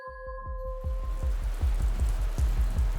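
Steady rain falls throughout, a dense patter with soft rhythmic thumps of drops hitting a surface. It comes after a brief tonal hum at the start, with no voices.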